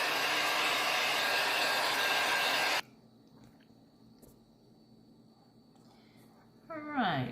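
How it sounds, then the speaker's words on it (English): A hair dryer blasts loud and steady at close range while quick-drying a painted canvas, then cuts off abruptly, leaving near quiet until a brief voice at the end. "I'm quick drying the canvas as well"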